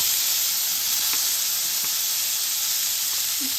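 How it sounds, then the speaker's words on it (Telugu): Tomatoes frying in half a spoon of oil in a kadai, a steady loud sizzle and hiss holding evenly throughout with a few faint clicks. "అదే కడాయిలో 1/2 స్పూన్ ఆయిల్ వేసుకున్నాను. టమాటాలు కూడా వేసుకుందాము."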